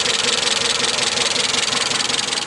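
Misfiring Mazda engine that sounds like rod knock, running with a steady, rough, rhythmic pulsing churn that stays loud and close throughout.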